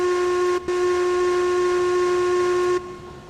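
A train in the railway game Railroads Online sounds a steady whistle-like tone with a brief break, then cuts off, leaving quieter rumbling.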